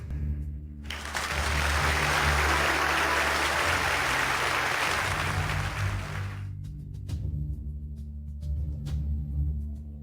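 Audience applause welcoming the chairman of an investment firm at a formal event, a dense, steady wash of clapping lasting about six seconds before fading, over a low background hum.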